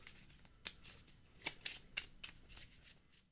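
Magic: The Gathering cards being riffle-shuffled by hand, a quiet run of soft ruffling bursts and flicks, close and fairly faint over a low background hum.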